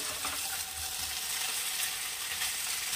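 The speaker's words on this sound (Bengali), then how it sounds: "অনেকটাই ভাজা ভাজা হয়ে গেছে, এবার আমি মিশিয়ে দেব" Potatoes and pointed gourd fry in a pan with a continuous bright sizzle, the faint scrape of stirring mixed in, close and steady with no talking.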